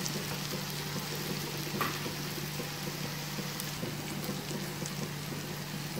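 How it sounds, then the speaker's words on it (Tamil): Fish balls deep-frying in hot oil over steady, even heat make a continuous dense crackling hiss, close and unbroken for the whole stretch, with no one speaking. "சீரான தணலில் வச்சு பொறிச்சிங்கனாக்கா உள்ளே நல்லா வெந்து கிறிஸ்பியாக இருக்கும்"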